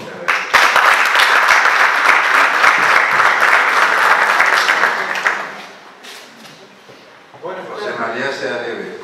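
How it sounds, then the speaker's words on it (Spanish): An audience at a poetry forum in the Real Casino de Murcia bursts into loud, dense clapping that holds for about five seconds, then fades to near quiet before a voice begins speaking. "Un aplauso."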